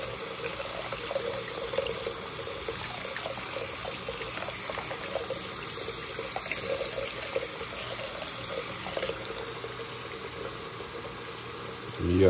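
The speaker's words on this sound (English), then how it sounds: "But I just, again, rinse everything off." Jewelry, including an everyday diamond piece and bracelet, rinsed under a running tap, a steady splashing stream of water flowing continuously and fairly close throughout.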